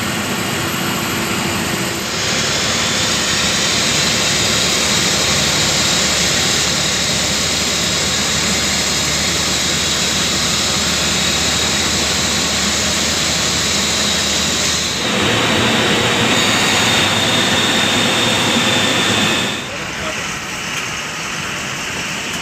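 An Akash Tours coach bus cruises along the Thoppur NH highway on the Coimbatore–Bengaluru route, with a loud, continuous roar of engine and road noise that shifts in tone partway through.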